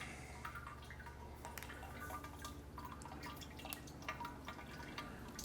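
Water drains steadily from a Brewzilla all-in-one homebrew kettle, a continuous close trickle with scattered drips running on without pause and no one speaking.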